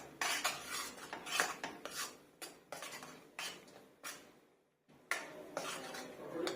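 A spoon scrapes and clanks against a pan while ground masala with onion, tomato, ginger and garlic is sautéed in oil for shahi paneer, a series of irregular metallic strokes with a short pause midway.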